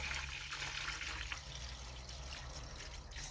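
Water runs and trickles steadily as it is poured over vegetables for pickling, a close, continuous splashing stream with no talking.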